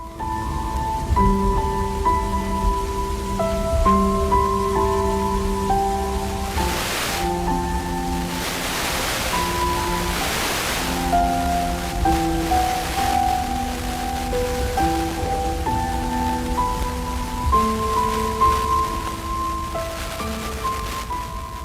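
A rain sound effect in a radio story plays as a steady wash of noise beneath a soft melodic music bed, continuing evenly without speech.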